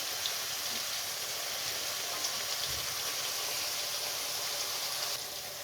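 Chopped garlic sizzles in hot oil in a pan with softened chopped onion, a steady broadband hiss and crackle that holds evenly throughout with no talking.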